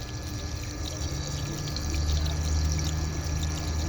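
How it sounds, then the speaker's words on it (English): Coolant pours steadily out of the cooling system bleeder on a 2006 BMW X5 E53 3.0i, a continuous close rushing and splashing flow that swells slightly partway through, with no talking. "I'm supposed to get a steady stream of coolant"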